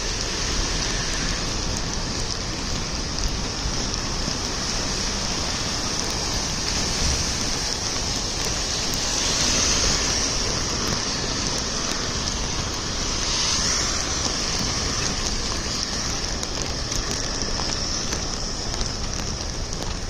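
Steady falling rain hissing continuously at moderate volume with no breaks, a dense wash of drops and no voices.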